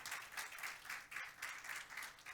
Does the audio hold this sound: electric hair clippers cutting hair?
no